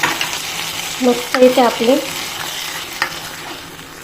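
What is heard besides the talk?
hot tempering poured into wheat kheer, sizzling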